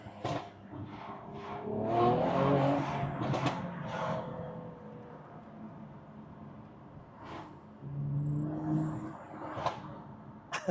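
A Mercedes C43 AMG with a stage 2 tune rumbles and swells as its engine and exhaust rise and fall in revs, heard from inside with a fairly steady drone and occasional thumps.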